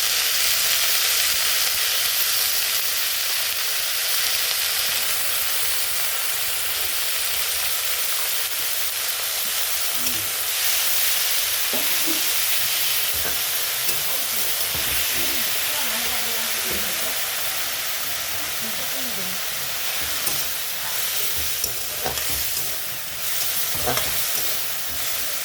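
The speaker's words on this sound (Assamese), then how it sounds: "মই প্ৰথমতে টেঙাৰ পাতখিনি ভাজি ললো" Tenga leaves and onion fry in hot oil, giving a steady loud sizzle and hiss that runs unbroken throughout, with occasional soft stirring scrapes and clicks in the latter half.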